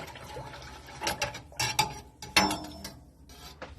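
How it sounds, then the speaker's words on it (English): Milk being stirred in a pot on a switched-off stove while making mozzarella, heard as a few soft scraping and clinking bursts of a utensil against the pot, close by, with no talking. "Give it a nice little stir."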